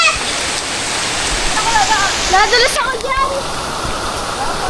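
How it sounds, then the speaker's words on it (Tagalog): Heavy rain makes a loud, dense, continuous roar of hissing downpour, and several voices shout and talk over it. "ang lakas ng ulan!"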